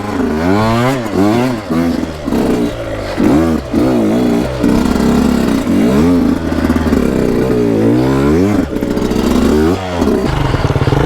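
A 300cc two-stroke motorcycle revs hard and accelerates in repeated rising, falling bursts, loud and close, with its raspy engine note filling the whole stretch.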